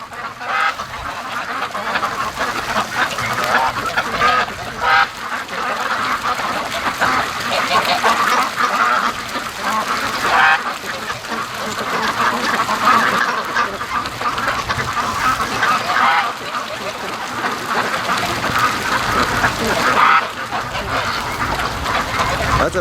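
A long train of free-range ducks quacks continuously on the way to the lake, a thick, unbroken chorus of overlapping calls outdoors, with wind rustling trees and a faint voice now and then.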